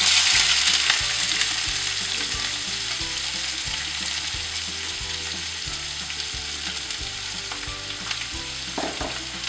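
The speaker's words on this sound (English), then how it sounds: "I'm going to saute the onions now" Chopped onions sauté in heated oil over reduced flame, giving a dense, continuous sizzle that holds steady for several seconds with faint stirring scrapes beneath; nobody speaks.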